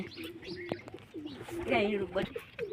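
Pigeons nesting around a hatching chick coo softly and repeatedly at close range, with brief chirps mixed in, while a person talks over them.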